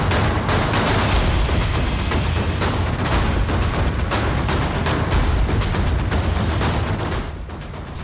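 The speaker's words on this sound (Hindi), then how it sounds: "उसका विरोध किया तो लुटेरों ने फायरिंग कर दी" Rapid, dense bursts of gunfire from robbers inside a jewellery shop during a robbery, a loud, continuous crackle of overlapping shots and booms lasting throughout, easing slightly at the very end.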